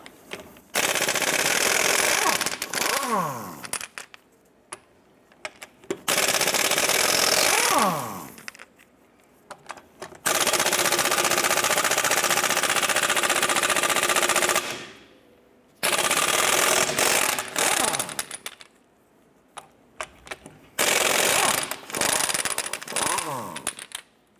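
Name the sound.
lug nuts removed with a 19mm socket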